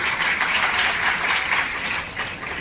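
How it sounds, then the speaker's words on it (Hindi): Dense, continuous applause from a large audience at an event in Greater Noida, steady and loud throughout before easing slightly at the end. "एक बार जोरदार तालियां हो जाए।"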